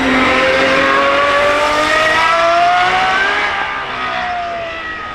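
A supercar with a 6.5-litre naturally aspirated Cosworth V12 revs hard at the Goodwood Festival of Speed, a loud high-pitched wail climbing in pitch and then easing off as the car runs on.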